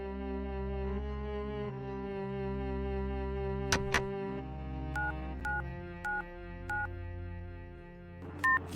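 A telephone number is dialed on a keypad, a series of distinct beeping tones in an irregular sequence over a steady background hum, with no voices.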